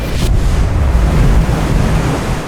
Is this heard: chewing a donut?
no